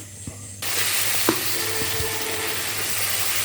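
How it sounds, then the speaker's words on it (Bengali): Fish frying in a home kitchen pan, a sudden loud sizzle that starts abruptly and holds as a steady, close hiss with a few faint clinks, no talking. "আমি যে রান্নাটা বসিয়ে রেখেছি আর কি, দিয়ে রেখেছি, মাছটা ভাজি করে ফেলেছি।"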